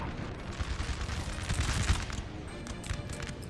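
Artillery fire in a Napoleon Total War battle at Zera, a rolling run of muffled booms and crackling volleys at moderate distance, clustered and uneven, building to a heavier thud midway.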